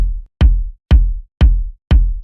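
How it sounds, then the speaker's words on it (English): Four evenly spaced house kick drum hits, thumpy and low with a bassy tail, each one loud and isolated against silence. "the only thing that I'm looking for the kick is having this kind of thumpy but still low bassy sound"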